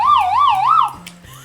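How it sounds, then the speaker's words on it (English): A video game sound like a police siren, a loud wailing tone rising and falling about three times before cutting off into quieter low game noise. "It really does sound like a police siren."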